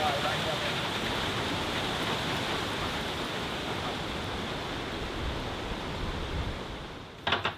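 Heavy rain pours steadily on a rainforest during a cyclone, a dense, loud, unbroken hiss that holds nearly constant throughout, with a brief clatter near the end.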